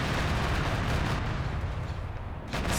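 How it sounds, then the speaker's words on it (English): An airstrike in a video game sets off a dense, continuous roll of heavy explosions, loud and booming, with a sharper burst near the end. "Oh, frick, that's a lat airstrike"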